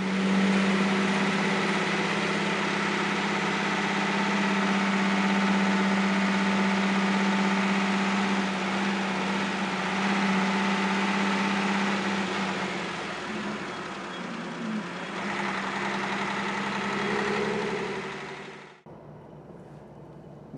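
A Mercedes O403 bus engine drones steadily from the rear inside a tunnel, swelling as the throttle opens, then cutting off abruptly near the end, with no talk.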